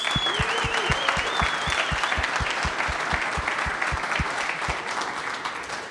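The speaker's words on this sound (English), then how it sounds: "Again, a round of applause for our students." A crowd at SciStarters Demo Day at Iowa State University in Ames gives the students a round of applause. The clapping is loud, dense and continuous, with a brief voice at the start.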